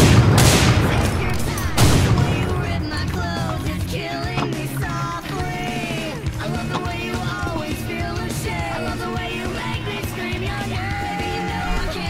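Dense, rapid video-game gunfire with booming shots and sustained bursts, loud and close at first and then continuing steadily under a busy mix of game sounds.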